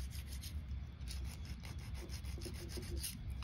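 A metal file rasps back and forth against the beveled end of a fishing reel axle shaft, producing a faint, close, rhythmic scraping that continues for a few seconds.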